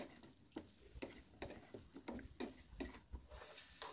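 Pieces of paneer are stirred and tossed in a pan with spices for paneer 65, giving a regular series of soft scraping strokes over a faint sizzle, close and with no speech.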